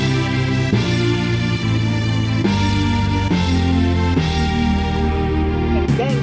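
A transition passage from a character's theme in video game music plays loud and dense, with sustained layered tones and regular accents throughout, with no talking.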